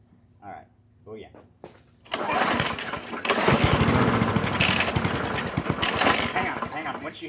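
A lawn mower that sat unused for four years cranks and tries to start: brief voices and pulls first, then a loud, rough, sputtering engine roar that holds and wavers close by.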